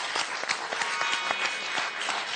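Audience applause for the champion on a French game show, a dense wash of many hands clapping together, steady and moderately loud throughout, with no talk over it.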